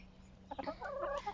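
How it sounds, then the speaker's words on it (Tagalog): Backyard chickens clucking as they are fed cooked rice, a cluster of short, close, lively clucks and calls that grows busier toward the end over a low steady hum. "Papakainin natin to. Yung mga manok natin."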